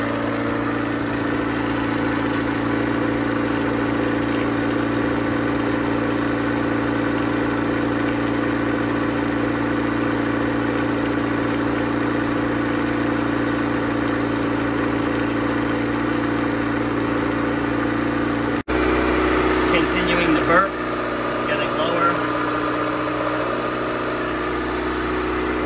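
A car engine idling steadily during a radiator coolant bleed with a no-spill funnel, a continuous low hum that runs throughout and shifts to a rougher, louder tone near the end.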